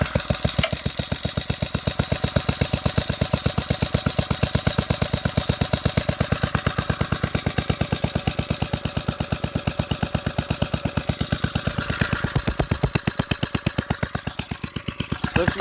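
A Briggs & Stratton single-cylinder engine runs right after startup following a head cleaning, a steady, fast, loud putt-putt chug that carries on without a break at close range.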